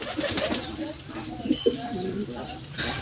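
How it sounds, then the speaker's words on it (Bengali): Young pigeons in a loft give soft, low cooing calls at close range, with a few rustles and a sharper thump near the end. "আমার লফটে দুটো নতুন বাচ্চা কবুতর আসছে"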